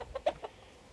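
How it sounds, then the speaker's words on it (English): Chickens cluck in a few quick, soft bursts close by, then fall quiet within a second. "you just have beautiful chickens"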